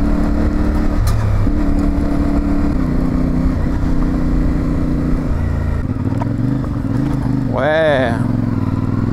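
A CF Moto 450MT adventure motorcycle engine drones loud and steady while being ridden, its pitch shifting with throttle and a brief rising rev near the end; a rider speaks briefly over it.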